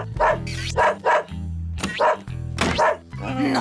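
A cartoon dog barks loudly in rapid, yappy bursts, several sharp barks clustered close together with brief gaps, sounding near and aggressive.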